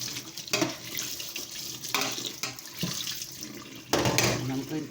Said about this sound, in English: And I'm going to give my strainer a rinse.